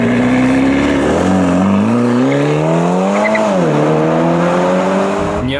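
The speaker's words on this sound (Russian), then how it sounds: "мы выкатываем Калифорнию T" A Ferrari California T sports car engine pulls away with a rising, revving drone that dips and climbs again, loud and close, with a faint tire squeal and no voices.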